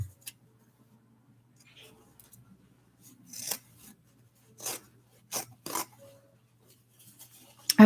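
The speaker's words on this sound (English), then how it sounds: "Let me cut this down the sleeve." Scissors snipping through fabric down a garment sleeve, heard as several short separate cuts and rasps with pauses between them, close and fairly quiet over a low steady hum.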